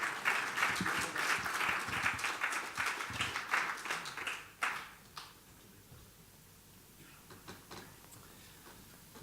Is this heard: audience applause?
yes